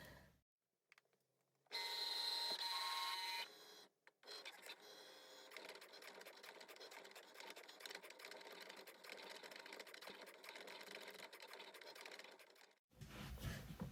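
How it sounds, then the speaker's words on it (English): A Cricut machine cuts a vinyl design loaded on a mat, giving a loud steady whirring burst followed by a long run of busy mechanical buzzing and clicking as the carriage moves, with no talk. "So I'll feed this through. It'll cut, and then we'll show you how to weed."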